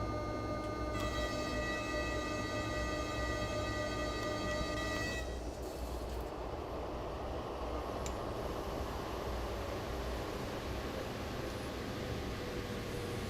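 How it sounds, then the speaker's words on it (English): A train in the rail simulator SimRail sounds a sustained, loud tonal horn for several seconds, then a steady heavy rumble of the moving train continues on its own. "Is this what the train actually sounds like?"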